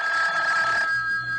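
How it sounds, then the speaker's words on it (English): A single telephone bell rings close and clear in a 1970s radio drama, one bright, sustained burst that cuts off partway and leaves a faint hum. "when I wasn't even thinking about the phone, it rang."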